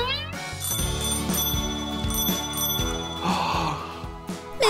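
A bicycle bell rings a few times over a busy musical backdrop, bright metallic rings standing out near and clear.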